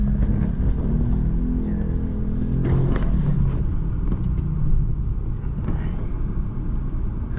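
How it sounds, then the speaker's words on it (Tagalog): Heavy road traffic picked up by a budget IP camera makes a steady, dense low rumble of passing vehicles, with no clear individual horns or voices standing out. "Ayan, sobrang traffic."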